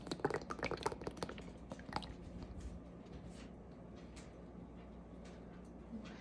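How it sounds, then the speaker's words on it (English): Premier protein shake poured from its container into a bowl, opening with glugging splashes and drips, then settling into a soft, steady trickle, close and quiet with no talk. "to a bowl, I'm going to take my Premier protein, and dump that all in"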